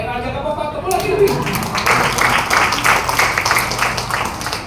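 A church congregation claps repeatedly at a Sunday service, dense and steady, with voices talking over the clapping throughout.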